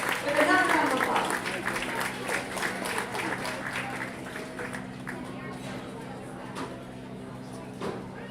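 Applause from the audience at a county fair livestock judging ring starts loud and dense, then slowly thins to scattered clapping, with talk and crowd murmur heard under it.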